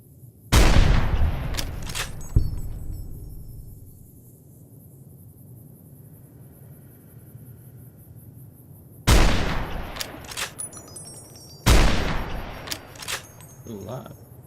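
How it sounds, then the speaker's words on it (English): Anti-materiel .50 caliber rifle gunshots in Fallout: New Vegas: three loud, booming shots, one near the start and two close together later, each followed by a rumbling decay, with spoken commentary in between. "Now we could go to our anti-material rifle here."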